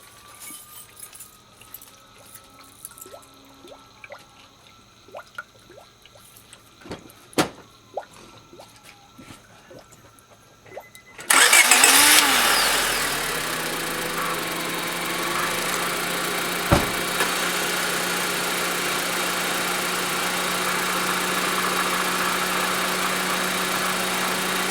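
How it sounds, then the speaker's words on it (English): A 2004 Honda Civic engine, just fitted with a new thermostat housing water outlet O-ring, cranks and catches after quiet clicking, then settles into a loud, steady idle that holds for the remaining time. "I'm going to go ahead and crank up the vehicle and look for a leak right here"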